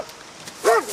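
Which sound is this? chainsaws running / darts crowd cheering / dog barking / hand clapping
dog barking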